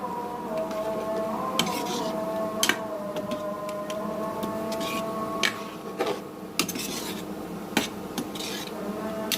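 Mung dal cooked with egg and fried onion is stirred in a pot, with scraping and clinking utensil hits against the metal at irregular moments over a steady background hum.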